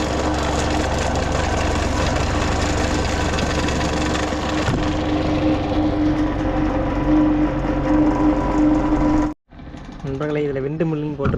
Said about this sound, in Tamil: நம்மளோட ஃபேன் பார்த்திங்கன்னா பயங்கரமாக வேலை செய்யுது